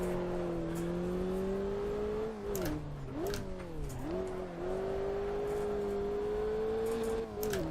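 Car engine in the Assetto Corsa racing game, a steady droning rev that dips and climbs through gear changes and corners, held loud and close throughout.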